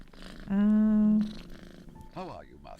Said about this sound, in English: That cat purring is so loud.